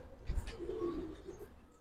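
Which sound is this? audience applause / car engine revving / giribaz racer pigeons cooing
giribaz racer pigeons cooing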